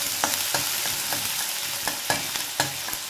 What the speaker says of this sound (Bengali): আঁচটা কমিয়ে দিলাম, এটা একটু ভাজা ভাজা করে নেব।